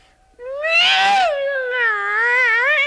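A cat lets out a loud, close yowl for a radio drama, a rising caterwaul that swells and wavers in pitch across a few seconds, alone with no talk over it.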